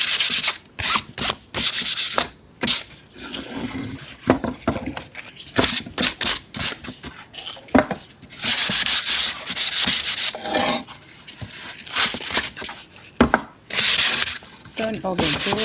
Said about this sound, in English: I'm sanding paper.